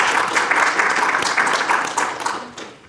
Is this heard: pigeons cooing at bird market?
no